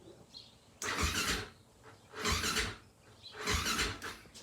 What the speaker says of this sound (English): it has always had an issue with the starter turning the thing over really slowly